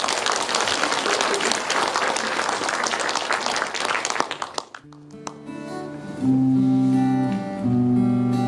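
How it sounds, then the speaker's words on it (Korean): A concert audience breaks into loud, dense applause for a hula dance performance. The clapping fades after about four seconds and gives way to band music. "훌라 춤선을 박수로 맞이해 주시죠"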